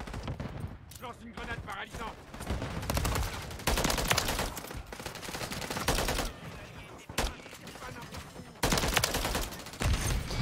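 Rapid gunfire from a weapon in a French-language shooter match, with loud bursts of automatic shots in repeated volleys and short pauses between them, and a voice talking over parts of it.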